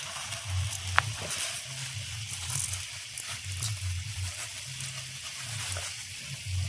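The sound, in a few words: chicken sizzling while being sautéed for chicken pulao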